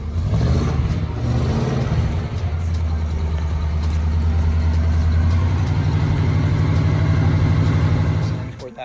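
A 1973 Oldsmobile Cutlass Supreme with a 350 Rocket V8 running, a deep steady rumble with a slight rise in revs partway through, close by and loud before cutting off near the end.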